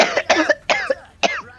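Four quick, harsh coughs in a row, loud and close, from a player in an Overwatch session with Kiriko, each burst separated by short pauses.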